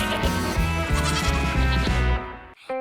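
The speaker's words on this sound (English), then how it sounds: "There were some very beautiful goats in the pen." Cartoon goats in a pen in Peppa Pig bleat repeatedly in a loud, wavering chorus over a bouncy musical backing, stopping abruptly before a brief final sound.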